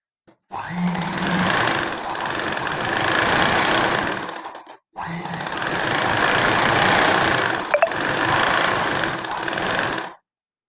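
A sewing machine runs in two long steady bursts while stitching a blouse sleeve, a dense whirring drone broken by a brief pause in the middle, close and loud.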